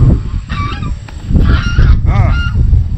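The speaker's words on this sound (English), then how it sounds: "And there's a goose." Several loud, close honks from a goose on a Texas ranch, bursting out in short rising calls over a rumbling outdoor background.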